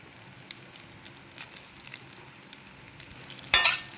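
Spoon stirring semiya payasam with dry coconut and almonds in a pan, making faint soft scrapes and a quiet simmer, then a brief louder scrape near the end.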